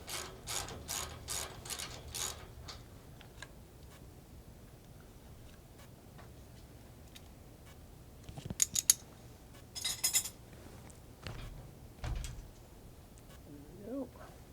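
A hand ratchet clicks in quick bursts as bolts are tightened while a RAM Stratus tower section is assembled. There are rapid clicking runs near the start and sharper bursts later, all fairly quiet against a low background.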